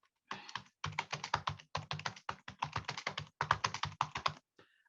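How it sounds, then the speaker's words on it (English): Fast, continuous clatter of keys on a computer keyboard, heard up close in several dense runs with brief gaps, ending in a single sharp tap. "I'm typing here, trying to type and read at the same time."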